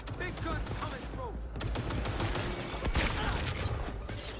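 Rapid gunfire from heavy weapons in the video game Cyberpunk 2077, dense crackling bursts running throughout at moderate loudness, mixed with game sounds and some voice.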